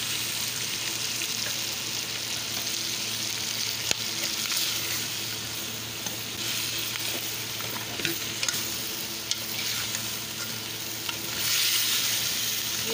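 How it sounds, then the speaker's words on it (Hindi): Onion and green chili paste fries in a pan for a chicken panjay, hissing in a steady close sizzle with scattered stirring clicks and a louder surge of spitting toward the end, no speech over it. "ये प्याज को भी थोड़ा सा फ्राई करूंगी, इसका भी कच्चापन ख़त्म हो जाएगा।"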